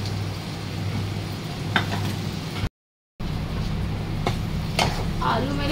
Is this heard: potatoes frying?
yes